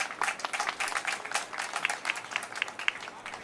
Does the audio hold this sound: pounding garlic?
no